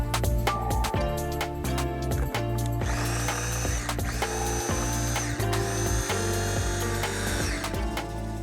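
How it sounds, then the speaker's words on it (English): A food processor pulses mushrooms until finely chopped, giving loud whirring motor bursts that start and stop several times with a rattling, grinding edge. "I'm just going to pulse this 3 or 4 times until it's finely chopped"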